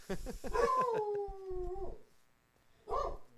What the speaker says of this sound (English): that's the word from our bagel dog, Beaner.